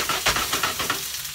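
Onions sizzle and crackle in a hot pan, a dense close frying hiss with soft stirring pulses, brief and steady with no talk.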